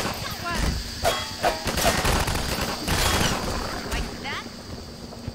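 Gunfire in Half-Life 2 crackles in bursts of rapid shots through a busy game mix, with someone talking over the action.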